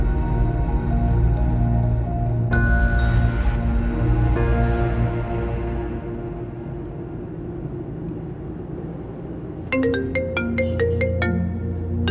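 A telephone rings in a domestic drama scene, with sustained musical tones playing throughout and a bright ringtone melody of rapid repeated chimes entering near the end, loud and close.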